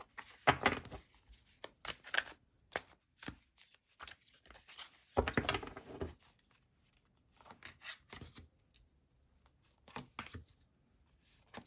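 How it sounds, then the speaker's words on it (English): Tarot and oracle cards being pulled from a deck and flipped over, giving soft papery shuffles and slaps in short irregular bursts, fairly close and quiet with pauses between. "I'm going to pull 8 cards, and then we're going to pull them over, turn them over"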